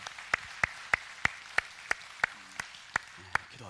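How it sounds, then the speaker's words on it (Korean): Members of a church congregation clap in unison, about a dozen crisp, evenly spaced beats at a steady quick tempo, with faint music or voices slipping in toward the end. "우리 다 같이 뜨겁게 격려로 박수로 축복합니다"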